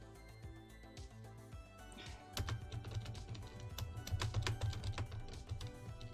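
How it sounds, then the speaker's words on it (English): Rapid, close clattering keystrokes on a computer keyboard, a dense burst of taps while playing Mass Effect Andromeda, layered over game music. "the sound you can hear there is me mushing my keyboard to go through all the systems"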